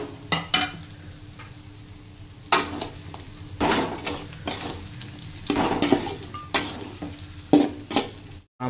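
Chicken frying with masala in a home-style pan, a steady low sizzle under repeated bursts of stirring and scraping, with occasional sharp clinks of a utensil against the metal.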